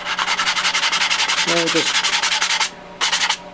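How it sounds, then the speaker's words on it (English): A foam sanding block of about 150 grit rubs back and forth over dried plaster on foamcore, a loud, close, rhythmic rasping in quick even strokes with a short pause near the end, and someone speaks briefly over it. "we've let this plaster dry, and now we're going to sand it off"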